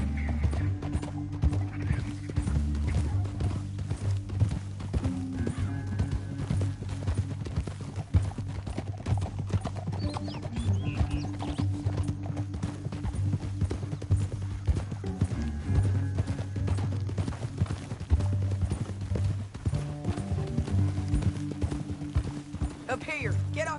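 Steady clip-clop of horses' hooves trotting at a brisk, even rhythm, fairly close, continuing throughout with occasional voices underneath.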